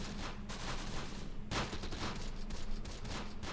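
Dense, continuous small-arms fire rattles through a World War II tactical battle in the Close Combat strategy game, with bursts overlapping into a steady fusillade and a sharper volley midway.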